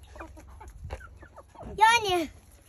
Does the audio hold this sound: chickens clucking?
yes